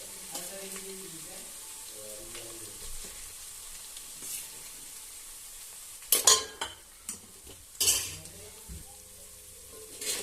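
Masala with turmeric and red chili powder frying in oil in a pan for a spicy village-style chicken curry, a soft steady sizzle with occasional clinks and scrapes of a spoon stirring against the pan.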